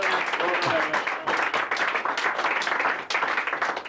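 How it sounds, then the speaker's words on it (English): A round of applause from an audience at a workplace gathering, energetic clapping close by that surges in waves with brief dips, and voices mixed in among the claps. "So we get a big round of applause"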